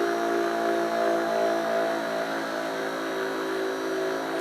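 A 3D printed pulse energizer motor with extra coils around its edge runs at a steady whine with layered tonal harmonics, constant and fairly loud at close range, with no talking.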